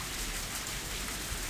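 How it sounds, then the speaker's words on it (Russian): Heavy rain pours steadily outside as a sound effect in the Higurashi visual novel, a dense, even hiss of falling water with no pauses, soft and distant. "снаружи просто ливень полил"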